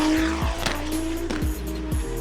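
Drift cars working a new track layout at a drift venue, with engines droning and revving while tires squeal in repeated bursts, loud and close, no voices.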